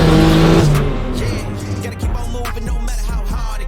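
A turbocharged BMW E30 accelerating hard at full throttle, a loud close engine note climbing in pitch with a brief shift dip partway through, then pulling again.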